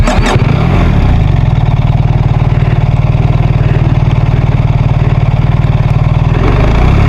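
A motorcycle on an adventure ride in a forest setting starts up with a brief crank and catch, then settles into a loud, steady close-up idle that continues unbroken for several seconds.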